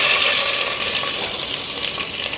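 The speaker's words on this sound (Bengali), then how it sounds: "এইবার এর মধ্যে দিয়ে দিই পেঁয়াজ কুচি।" Chopped onions hitting hot oil in a pressure cooker set off a loud, steady, close sizzling hiss that continues without a break and fades slightly toward the end.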